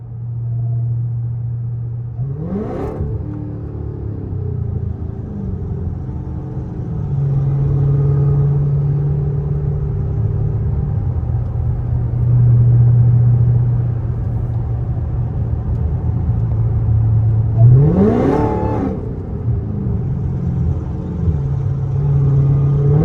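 A Dodge Hellcat engine rumbles low and steady, with two swelling revs as the car accelerates, heard continuously from close by without any voices.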